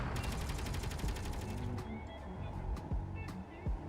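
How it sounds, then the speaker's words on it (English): Turret in the Space Engineers space battle game firing bursts, rapid repeated shots dense at the start and then thinning into scattered shots amid steady game noise. "Yeah, it's putting out bursts right now."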